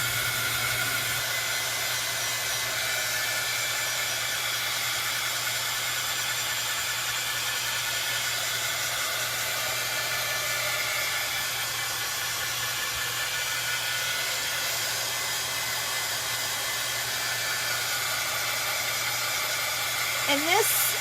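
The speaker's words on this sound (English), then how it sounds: "So I'm going to pull out my little handy dandy heat tool here" Handheld heat tool blowing over chalk paint on a pizza pan, a steady whirring fan-and-hiss drone held at constant level throughout, close and uninterrupted.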